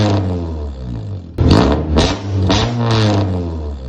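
A car engine with a straight-pipe exhaust and no mufflers revs, its loud, raw drone rising and falling in several sharp blips after a steady idle.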